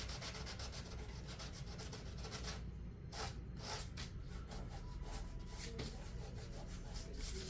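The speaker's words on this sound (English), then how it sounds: "let me get the finger sander again so we can remove some of this glue that they use" A handheld finger sander works glue off a dollar-store craft piece, a steady close buzzing hum with continuous rubbing grit that runs throughout, the pitch wavering slightly as pressure shifts.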